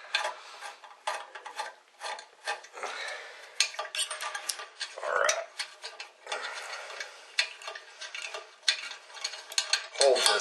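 Long screws being backed out of a ballast inside a metal high bay light fixture, with close, irregular metallic ticking, clinking and rattling of the screws and housing under the tool, with no talk.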